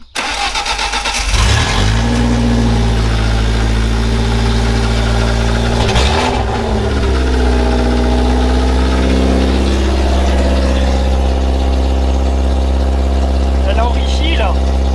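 Turbocharged BMW 316 car engine cranking and starting, then settling into a steady loud idle that dips briefly and recovers, with a cold engine running rich, heard close; a voice talks faintly over the idle.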